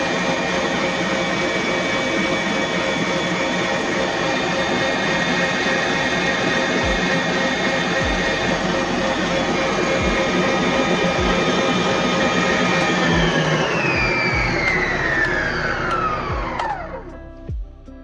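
A kitchen blender runs on high, whipping a melt-and-pour soap base with fragrance oil and jojoba beads. A loud, steady motor whine holds for about thirteen seconds, then pitches downward as the motor winds down to a stop.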